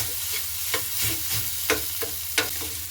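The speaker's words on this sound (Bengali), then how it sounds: "এবার গ্রেট করা আলুটা দিয়েও আমি খুব ভালো মতো করে নেড়ে নেবো" Grated potato frying in a pan with semolina, a soft continuous sizzle broken by several sharp scraping strokes of a spoon stirring it, close up and alone.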